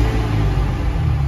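A car engine that has sat unused for a while turns over and catches, settling into a loud, steady low rumble that fills the whole moment with no talking.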